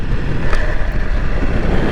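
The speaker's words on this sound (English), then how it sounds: "I don't know why it picks up the motorcycle loud and clear" A Honda CRF 300L Rally dual-sport motorcycle on the move gives a steady, loud low engine rumble, heavily mixed with buffeting wind noise on the microphone throughout.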